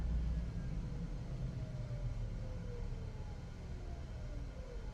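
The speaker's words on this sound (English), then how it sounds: "we'll just go for a little drive here" A Rivian electric vehicle drives along, a faint steady road rumble inside the cabin with a soft rising and falling motor whine and no talk.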